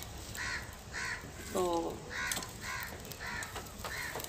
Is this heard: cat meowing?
no